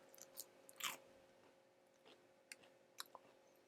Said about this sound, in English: I feel like me crunching is going to be really, really loud